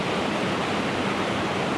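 A river in snowy New Zealand mountains rushes in a steady, close, broadband wash with no pauses and no voices.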